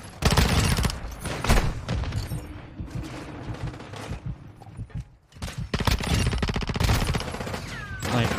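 Shotgun blasts and heavy gunfire in MW2 roll on without a break, loud and close, with booming shots layered over constant chaotic battle noise.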